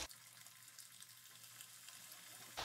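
Chicken kebab patties frying in hot oil give off a steady, soft sizzle with crackle that holds evenly throughout, with no voices.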